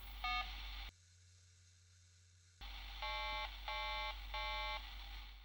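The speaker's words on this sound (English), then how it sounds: "It clearly started and ended the test because we heard the initial beep and then we heard some low tone beeps at the end" An electronic device being tested after a repair gives a short beep at the start, then after a quiet gap three evenly spaced tonal beeps at the end, close and clear over a steady low hum and faint static.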